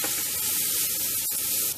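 Half a large chopped onion hits a very hot pan on medium heat and sizzles in a steady, loud hiss, with one sharp click partway through and the sizzle dropping off at the very end.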